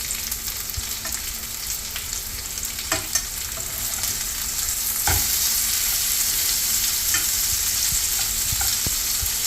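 Seer fish slices frying in hot oil with a bunch of curry leaves, a steady close sizzle with occasional sharp pops and crackles throughout, no voices.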